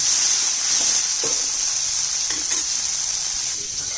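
Steady, dense sizzling of soybean chunks frying in hot oil, a constant bright crackle with occasional soft stirring sounds.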